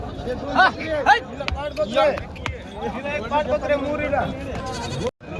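Local country goats bleat repeatedly with wavering cries close by at a goat market in Parbhani, mixed with people talking over them throughout.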